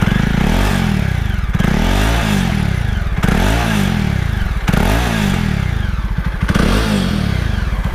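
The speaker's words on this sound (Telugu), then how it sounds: "నా ఎగ్జాస్ట్ నోడ్ అయితే కొంచెం రిఫైన్డ్ ఉంది." Jawa 42 motorcycle engine running steadily close by, a loud continuous exhaust note with a pulsing low thump and periodic rhythmic surges, alone without talk.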